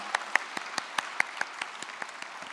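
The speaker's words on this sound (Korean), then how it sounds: "우리 부모님들에게 큰 축복의 박수, 감사의 박수를 보내겠습니다" Applause for parents in a church gathering comes as sparse, distinct claps, about a dozen sharp hand strikes spaced fairly evenly, close and alone, growing slightly softer toward the end.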